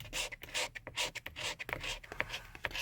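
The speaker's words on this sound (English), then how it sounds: "You could also use like an old credit card" An old credit card scrapes sticky, degraded clear-coat goo off the buttons of a Mercedes steering wheel, giving a close, quiet run of short rasping strokes in an irregular rhythm.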